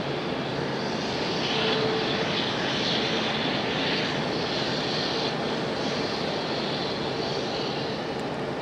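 An airplane engine roars loud and steady at Raleigh-Durham International Airport at night, a broad continuous jet drone that stays constant from start to finish with no voices.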